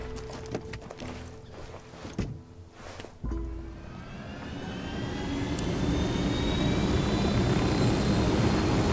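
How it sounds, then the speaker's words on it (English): A helicopter in the Ghost Recon video game: a whirring engine roar that swells and grows steadily louder over a few thumps, ending as a dense, sustained drone with no talking. "Call an helicopter."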